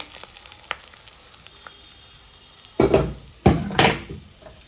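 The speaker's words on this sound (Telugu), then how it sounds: "ఇప్పుడు ఈ తాలింపు మనం దీంట్లో పోసేసుకున్నామండి" Hot tempering is poured over gongura and red chilli chutney, bursting into two loud, close sizzles after a few faint kitchen clinks.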